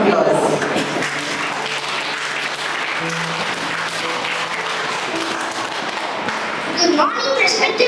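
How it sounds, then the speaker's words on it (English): An audience at a school program claps steadily in a dense, sustained round of applause, with some tapping and thumps and a voice speaking near the end. "Let us welcome them with a magical round of applause."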